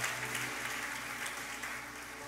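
A church congregation applauds in worship, giving a soft, steady wash of clapping that sounds distant and evenly sustained throughout.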